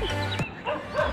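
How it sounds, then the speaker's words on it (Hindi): Several street dogs on a night-time roadside in Delhi's Chirag Delhi area bark and yip in short bursts, a couple of sharp calls over steady traffic-like rumble, fairly close. "अब कुत्ते इनको देख, भाई तो वहाँ भी बहुत सारे आ गए थे।"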